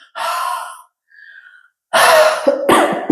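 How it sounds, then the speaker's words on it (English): A person performs breathing-exercise huffs and a cough, with two or three forceful breathy exhalations and a short throat-clearing cough separated by brief silences, close to the microphone. "put your hand in front of your mouth and do a huff"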